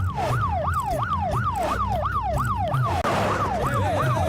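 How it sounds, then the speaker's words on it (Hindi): An ambulance siren from a film scene wails in a steady rising-and-falling cycle, loud and close throughout, with a road-traffic rumble underneath and a brief cut near the end. "एम्बुलेंस से शुरुआत।"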